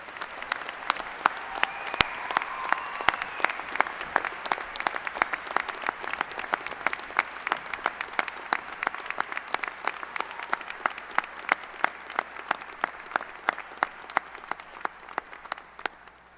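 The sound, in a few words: applause for master's degree recipients at commencement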